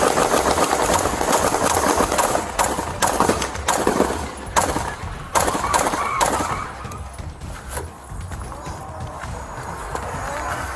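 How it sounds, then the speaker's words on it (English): Rapid, dense gunfire from an AK-47 directed at police officers, captured close on a body camera as continuous loud bursts that ease slightly toward the end amid commotion and movement. "shots fired, shots fired."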